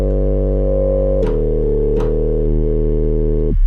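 A Moog Slim Phatty synthesizer holds a loud, buzzy sustained tone with its filter resonance turned up. The note shifts pitch twice with brief sweeping squeals, then cuts off abruptly at the end.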